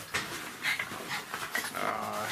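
Puppies play-fighting together, with close panting, small whimpers and yips in quick irregular bursts, no talk.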